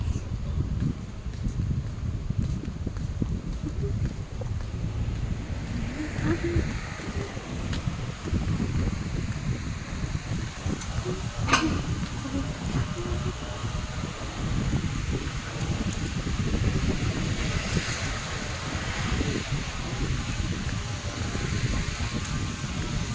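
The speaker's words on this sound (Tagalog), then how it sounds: "Lakas ng hangin, no?" Steady, roaring wind buffets the microphone at Bihu Lake Park in Taiwan on a drizzly day, with continuous low rumble and rustling, loud and constant throughout.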